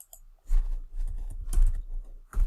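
Fingers tap a few quick clicks on a computer keyboard while typing a short command, close and dry, in brief clusters with small pauses between.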